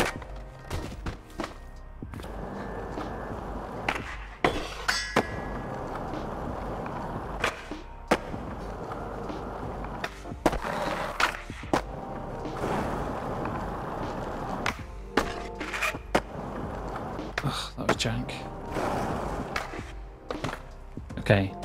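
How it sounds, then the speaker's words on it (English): Skateboard wheels and trucks scraping along schoolyard rails in the skateboarding video game Session, a continuous rough grinding broken by sharp clacks and landings, steady and fairly loud throughout. "Just scraping these rails."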